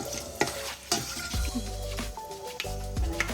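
Mace and cardamom sautéing lightly in oil for chicken biryani, with a close, steady sizzle broken by several sharp clanks and scrapes of a spoon stirring the pan, no voices.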